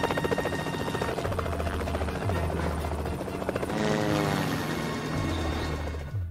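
A police helicopter circles low over a swamp in a film scene, its rotor thumping loud and continuous with a buzzing engine whine that swells and shifts in pitch midway.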